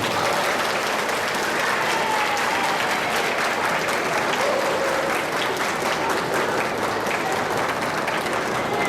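Loud, sustained applause fills a fifth grade promotion ceremony, a large audience of parents and relatives clapping steadily and densely throughout.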